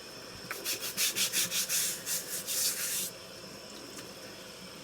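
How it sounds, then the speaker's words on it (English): A small brush scrubs abrasive residue off honing stones in a rapid run of about a dozen close, rhythmic rasping strokes lasting roughly two and a half seconds, followed by a quiet pause. "Get yourself a little brush and brush them off."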